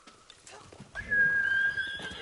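A horse whinnies loudly in the Ghost of Tsushima video game, a long high neigh following a patter of clip-clopping hooves, with faint game sounds underneath.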